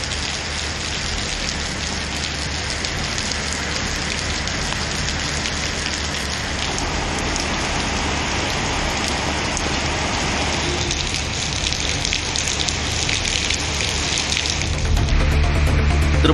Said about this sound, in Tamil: நேற்று நள்ளிரவு பலத்த காற்றுடன் மழை பெய்தது.